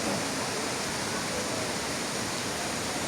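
A small waterfall at Duman spring in Bosnia and Herzegovina near the Croatian border rushes with a dense, even roar of clear falling water, loud and close, with no other sounds.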